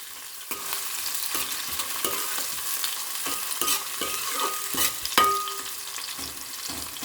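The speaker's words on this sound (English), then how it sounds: "And fry the onions till they are light brown in color." Onions fry over medium flame in a pan, a bright close sizzle punctuated by repeated scraping stirs of a spoon.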